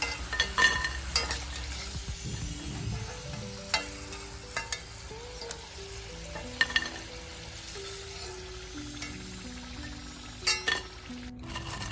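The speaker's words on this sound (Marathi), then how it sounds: "याच्या आवाजावरूनच तुम्हाला समजत असेल आपले फ्रेंच फ्राईज किती छान बनवून तयार झालेले आहे" Freshly fried, crispy restaurant-style French fries shifted about on a dish, giving light dry rustling and scattered crisp clinks over a low steady background, with a few sharper taps, no voices.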